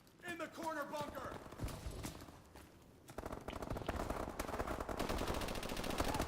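Rapid energy-weapon gunfire from Call of Duty: Advanced Warfare, with dense bursts of shots running through most of the clip over game sounds, and a voice talking over the early part.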